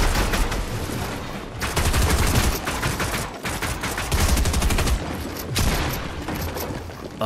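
Sustained bursts of rapid gunfire in the video game Fortnite, several long volleys of dense shots overlapping and pausing briefly, loud and close throughout.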